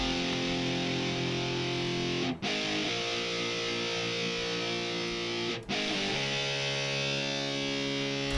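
Clean electric guitar runs through Guitar Rig amp emulation software. Sustained chords ring loud and dense, broken by two brief cuts, with no talking over them.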